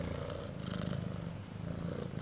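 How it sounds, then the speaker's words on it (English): A pet cat purrs steadily up close, a continuous rumbling purr with a gentle pulsing rhythm, fairly loud and alone without talk. "She just purrs her life away,"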